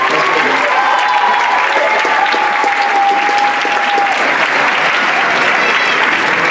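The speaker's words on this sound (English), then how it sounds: "give yourself a round of applause" Dense, sustained applause from a large audience at a student cultural showcase event, loud and steady throughout with a faint tonal whistle or cheer threading through the middle.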